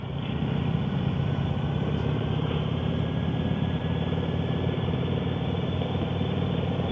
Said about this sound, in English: Rolling up on our big, loud motorcycles.